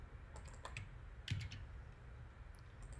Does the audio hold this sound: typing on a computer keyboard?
yes